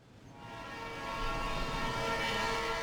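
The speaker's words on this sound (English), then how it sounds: "that sound you hear of the train" A train sound effect from a movie rises from quiet into a loud, sustained rumble with a droning, horn-like tonal layer, building over the first second and then holding steady.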